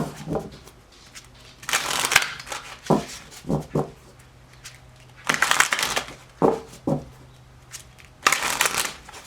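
Tarot cards are riffled and bridged in repeated loud bursts, with softer taps and card slaps between shuffles, close up and without speech.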